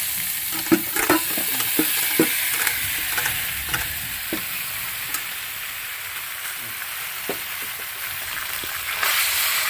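Gravied beef being stirred into a frying pan for Kottayam-style beef ularthiyathu, with a steady hissing sizzle and scattered scraping spatula strokes, busier at first and thinning out later.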